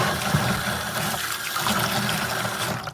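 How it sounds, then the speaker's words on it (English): Water poured into tomato seed pulp, a steady close trickling and gurgling pour that tapers off at the end, with no talk. "I'm going to add about 1 part water to my tomato guts."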